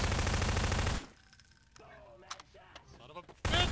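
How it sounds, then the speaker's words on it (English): SMG fire in a Prop Hunt game, a loud rapid burst lasting about a second, then brief clicks and clatter, and another sharp burst at the end. "Watch where you're shooting!"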